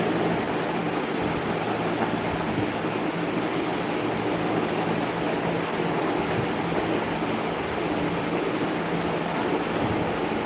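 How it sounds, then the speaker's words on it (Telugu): Heavy rain pours down in a steady, dense roar that stays loud and unbroken throughout, with no voices. "వర్షం ఘోరంగా కొడుతుంది నా దగ్గర"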